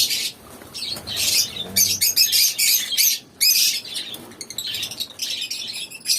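Many small blue and green lovebirds chirp and tweet busily at close range, with rapid overlapping high calls, brief squawks and occasional wing flutters.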